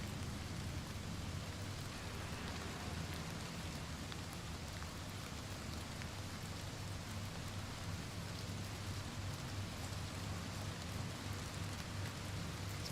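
Steady rain drums outside, heard from indoors within stone walls in Oblivion Remastered; a constant, even hiss of falling water with no pauses or voices.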